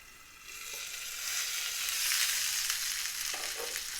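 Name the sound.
garlic pork chops frying in a covered pan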